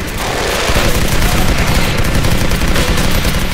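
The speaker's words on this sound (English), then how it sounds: "I pumped 200 rounds into you." Relentless loud gunfire in the first-person shooter Legendary, a dense continuous fusillade of machine-gun shots with no pauses, filling the whole moment with no talk over it.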